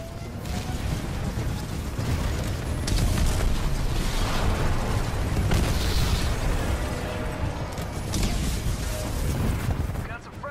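A Titan's nuclear ejection blast in Titanfall 2 frontier defense on hard mode, a dense rolling roar of explosions and battle noise sustained loudly throughout, with no clear single peak.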